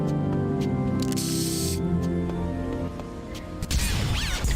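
A spray can hisses in short bursts while painting a mural in Tony Hawk's Underground 2 in Berlin, the sharp aerosol sprays rising over steady game music and effects.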